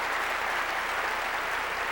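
Worshippers in a church clap together, a brief, fairly soft and steady patter of applause over a low background hum.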